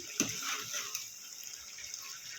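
Water pours steadily into a pot of chicken curry cooking in oil, a continuous close splashing wash with a few small clinks and no voices.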